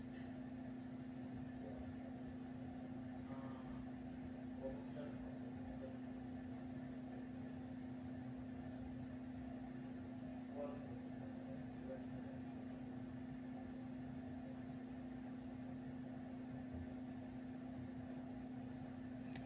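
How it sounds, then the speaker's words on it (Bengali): Steady low hum of a microwave oven running while dark chocolate melts with a little milk inside, a constant drone with faint faraway clinks and rustles and no speech. "এরপরে আমি মাইক্রোওয়েভে ডার্ক চকলেট গলিয়ে নিয়েছি।"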